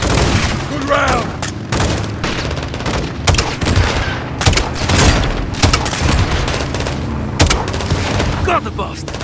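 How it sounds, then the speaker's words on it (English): Rapid gunfire and booming launcher explosions in Call of Duty: Modern Warfare 2, dense bursts and repeated heavy blasts throughout, with shouted voices mixed into the combat. "Gaz, hit them with the launcher!"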